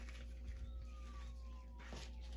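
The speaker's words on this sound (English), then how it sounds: "Ambulance, maybe?" An ambulance siren wails far off, faint and thin, one long falling tone under steady outdoor background noise.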